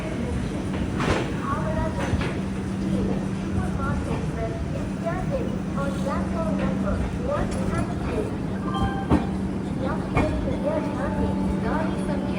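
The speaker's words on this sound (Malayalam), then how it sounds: "ട്രെയിൻ ഇപ്പോൾ ഇതാ ജാർഖണ്ഡിലെ ടാറ്റാ നഗർ ജംഗ്ഷൻ റെയിൽവേ സ്റ്റേഷനിലേക്ക് എത്തുകയാണ്" Tatanagar Express, running about an hour late, rolls into Tatanagar Junction station in Jharkhand, pulling up at platform five. A steady low rumble and hum continue throughout, with a person talking over the top of the noise.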